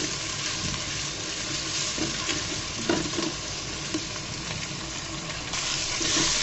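Chopped onions, three large ones, fry in a pan as the base for a beef liver curry, giving a steady close sizzle with faint stirring scrapes throughout.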